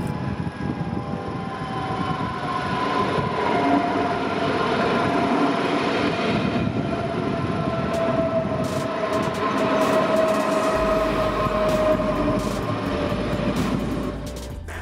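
An S6 S-Bahn train on new tracks north of Frankfurt crosses the River Nidda and runs into Bad Vilbel station, a steady close rolling rumble with wheel noise and a faint whine, no voices.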